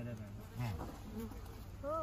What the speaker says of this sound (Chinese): 这里一窝蜜蜂刚来的哈